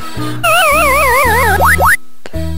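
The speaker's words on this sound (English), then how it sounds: "the death animation on Pac-Man is exactly the same, that funny noise, even on quest mode" Pac-Man death jingle from the video game Pac-Man World: a loud, close electronic warbling tone that wobbles up and down, followed by two quick rising boing-like sweeps, then a brief gap and a low thud.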